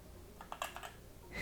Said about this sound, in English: every time I click on my keyboard